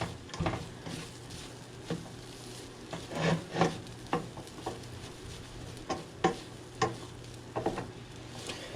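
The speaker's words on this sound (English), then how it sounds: "now we'll mix this in again" Chicken fried rice being stirred in a hot pan, with a utensil scraping and tossing in irregular strokes over a steady sizzle of frying, close and moderately loud, with no talking.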